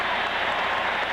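A packed arena crowd roars during a 1981 Eastern Conference Finals playoff basketball game between the Celtics and Sixers, a brief, loud, steady wall of cheering and clapping.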